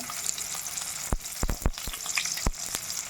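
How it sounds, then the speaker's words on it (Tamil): Finely chopped small onions and curry leaves sizzling in hot oil for a tempering, a steady bright crackle broken by sharp spatters and stirring taps, no talking. "வெங்காயம் நல்லா பொன்னிறமாக வரட்டும் பாருங்கள்"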